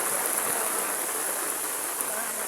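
Heavy rain pours steadily during Typhoon Carina amid flooding in Metro Manila, a dense, continuous hiss close by with no break across the short stretch.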